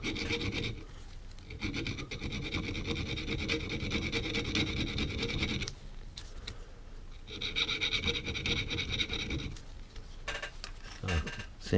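A custom metal spine lock bar for a Buck 110 or Uncle Henry folding knife is sanded by hand, with steady close rasping strokes in long runs broken by two brief pauses.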